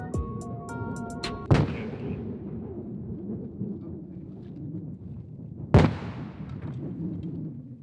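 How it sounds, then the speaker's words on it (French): Two sharp, loud explosive blasts go off a few seconds apart during avalanche control at a ski resort in Japan, each followed by a long rolling echo fading across the mountains. "est-ce qu'on ne mettrait pas un pétard avant ou deux ?"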